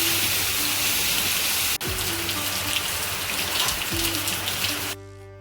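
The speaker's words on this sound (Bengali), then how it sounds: "কোনো মেঘ নেই, কিছু নেই, হঠাৎ করেই বৃষ্টি।" A sudden downpour falls outside a home, a dense continuous hiss of rain hitting surfaces that stays loud and steady, with one brief thud partway through, before it cuts off near the end.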